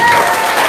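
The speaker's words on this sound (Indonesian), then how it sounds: "Tepuk tangan dulu semuanya." An audience at an Indonesian gathering claps together in a dense, loud, continuous burst that fills the whole brief moment.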